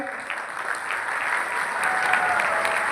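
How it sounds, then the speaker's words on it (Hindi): A standing audience at a trip event applauds one another, steady dense clapping from a crowd that builds slightly louder toward the end, with no talking. "तो एक बार खड़े होकर आप सब एक दूसरे के लिए दिल से तालियां बजाएं"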